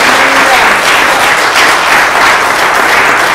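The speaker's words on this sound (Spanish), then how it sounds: "Fuerte ese aplauso al Señor." Steady applause from a church congregation, loud and continuous, with the clapping of many hands blending into a dense wash.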